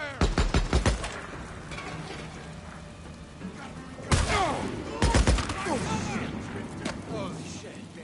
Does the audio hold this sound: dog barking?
no